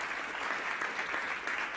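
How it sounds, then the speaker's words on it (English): Steady applause from a conference audience, dense clapping filling the whole moment without pause. "Can you give her a big round of applause?"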